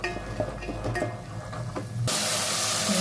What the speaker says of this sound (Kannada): ಇದನ್ನು ಚೆನ್ನಾಗಿ ಆಯಿಲಲ್ಲಿ ಫ್ರೈ ಮಾಡ್ಕೊಳ್ಳಿ